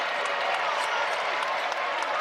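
A basketball arena crowd at an ACC men's game cheering after a transition basket, a steady roar of applause and shouting filling the space with an announcer's voice under it.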